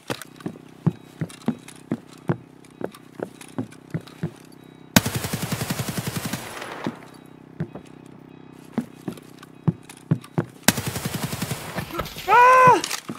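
Gunfire in the video game Escape from Tarkov: a string of sharp single shots spaced a beat apart, two dense bursts of rapid automatic fire, and a loud rising mechanical whine near the end, with no talking.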